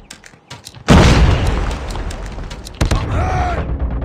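A loud grenade blast in Call of Duty Mobile's Favela deathmatch erupts after a second of faint game noise, rumbling on and then a second burst follows, with shouted voices around it.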